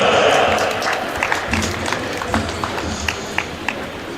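Scattered applause from a small crowd at a women's football festival in Paide, a team presentation for a player, with claps popping irregularly over a noisy, busy background.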